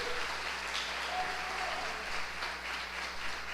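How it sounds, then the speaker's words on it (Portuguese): A congregation at a Sunday church service applauds steadily, a dense, even wash of clapping heard from within the crowd with no speech over it. "Um aplauso ao Senhor, bem forte para Jesus."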